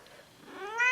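A cat meows, a rising, harmonic call that swells louder toward the end of a one-second moment, with a faint purr-like rumble beneath and no talking.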